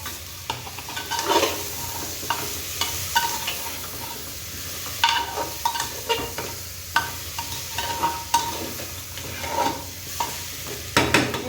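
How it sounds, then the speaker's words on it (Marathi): Washed rice tossed into a hot pan and stirred, a steady sizzle under repeated scraping and clattering strokes of a spoon against the metal, close and continuous, with no talking. "त्याच्यानंतर हे धुवून घेतलेले तांदूळ टाकणार आहे मी"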